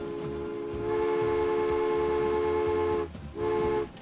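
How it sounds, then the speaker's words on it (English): A train runs in the video game Transport Fever, giving a steady rumble under a sustained horn-like tone that drops out briefly near the end and then returns. "this train should be able to move again as soon as we remove these markers"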